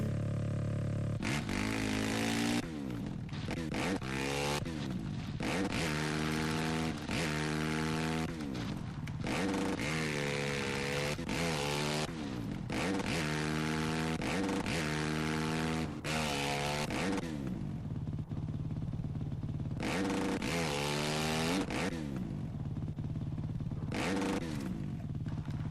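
Four-stroke motorcycle engine in the video game MX vs ATV Reflex, a deep low-pitched tone that revs up and shifts repeatedly in steady cycles, loud and continuous with no talk over it.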